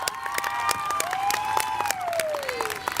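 Audience applause at a high school fine and performing arts awards ceremony, dense sustained clapping with some crowd noise and a faint tonal whine running through it.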